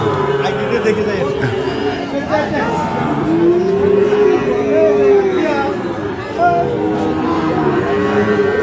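Cattle at a rural livestock market for Sahiwal bulls and calves, with a drawn-out moo rising over steady crowd chatter and haggling voices close by.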